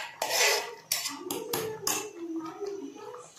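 A spoon stirs ground masala paste into crab curry in a metal pot, with a few sharp scraping clanks against the pot's sides in an uneven rhythm, close and clear.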